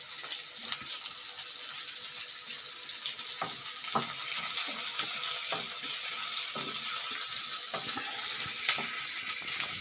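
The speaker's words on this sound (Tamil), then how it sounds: "நல்லா வதங்கட்டும்" Chopped small onions sauté in a pan for onion chutney, a moderate continuous hiss broken by scattered sharp crackles and pops.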